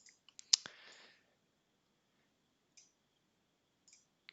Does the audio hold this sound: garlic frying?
no